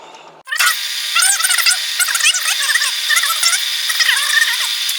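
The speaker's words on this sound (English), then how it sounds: "We want to drill a hole in the dead center of this piece." A power drill bores a hole into the center of a metal piece, starting abruptly and then whining and grinding continuously up close, its pitch wavering as it cuts, with no talk.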